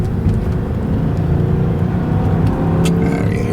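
A 2003 Mercedes-Benz S500 engine pulls steadily through the rev band, a smooth, continuous drone heard from inside the car, with some road and cabin noise.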